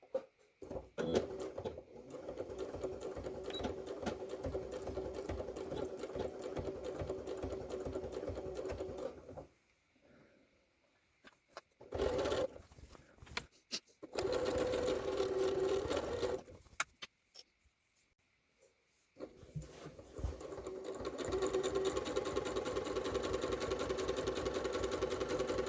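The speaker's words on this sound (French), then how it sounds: "on va coudre les côtés de la robe." A sewing machine stitches the side seams of a dress with a zip, running in long steady bursts with several pauses and restarts, close and clear.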